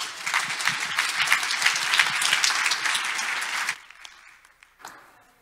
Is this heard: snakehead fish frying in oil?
no